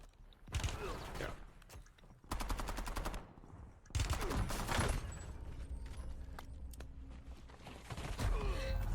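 Gunfire in the Call of Duty Warzone video game comes in several loud bursts of rapid automatic shots separated by brief pauses, with mechanical clicks and other in-game effects between them.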